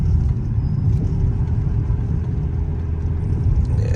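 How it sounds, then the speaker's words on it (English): A Dodge Journey with about 128,000 miles rolls along on tires flat-spotted from sitting, giving a steady loud low road rumble and engine drone from inside the cabin, continuous throughout with no talk. "Sorry it's bouncing like that because tires got flat spots from sitting."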